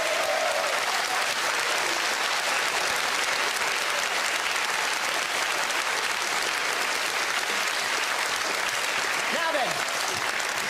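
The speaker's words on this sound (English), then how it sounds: "Will you please give a huge round of applause to the City Traders?" Studio audience applause on a televised IQ test results show, a loud, dense and continuous wash of clapping from a large crowd that holds steady throughout, with a few voices faintly underneath.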